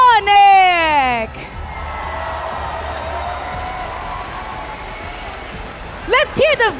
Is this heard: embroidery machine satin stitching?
no